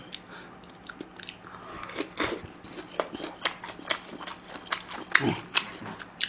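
Close, crunchy biting and chewing of fried food dipped in sauce, alongside garlic-heavy tteokbokki and dumplings, a run of wet crunches and smacking mouth sounds spaced irregularly, loud and near.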